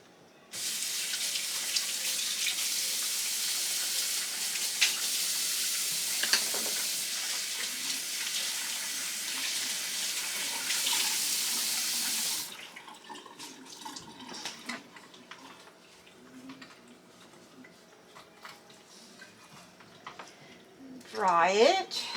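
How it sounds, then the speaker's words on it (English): Running tap water splashes steadily while a Dash Mini Bundt maker is washed with a soapy cloth, then stops; quieter wiping and handling noises follow, with a short squeaky sound near the end. "Wipe it out really good, and then I gotta wipe it out again so we don't have soap in our food."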